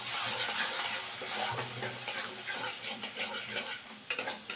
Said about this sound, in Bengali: দিয়ে এবার কিন্তু মিশিয়ে দিচ্ছি ভালো করে